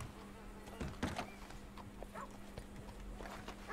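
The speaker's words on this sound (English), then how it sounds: "He's breaking in a horse right now." A horse being broken in within the Western game Red Dead Redemption 2, with hoof clip-clop and scuffling stamps at middle distance, a soft snort, and insects buzzing faintly under a low background hum.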